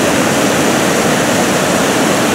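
Water from recent rains spills over the retaining wall of the old Chuviscar dam, a loud, dense, unbroken roar close by with no voices.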